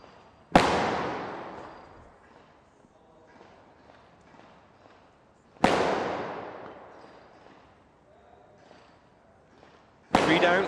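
Pistol shots ring out at targets in a pistol pen atop a tower during a SWAT team challenge: three loud, sharp reports spaced several seconds apart, each with a long echoing decay, and faint background activity in between.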